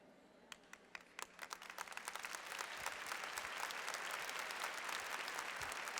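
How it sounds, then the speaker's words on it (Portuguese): Audience applause at a Catholic priest's sermon, starting as scattered claps and swelling within a couple of seconds into steady, full clapping from a large crowd that continues to the end. "Vocês não aplaudiram aquilo, aplaudiram isso, né?"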